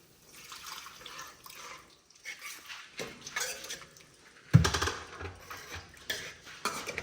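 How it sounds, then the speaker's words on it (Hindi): Kitchen clatter of utensils against a pan of cooking spices, then a sudden louder splash as water is poured in, followed by soft stirring and clinks. "मसाले में हम थोड़ा सा पानी डाल लेते हैं।"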